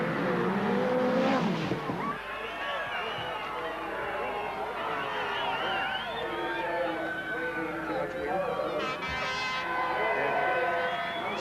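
Midget race cars at Western Springs speedway during the 1985 NZ World Derby, engines roaring loudly and continuously near at hand, with tyre squeal and crowd and announcer voices mixed underneath.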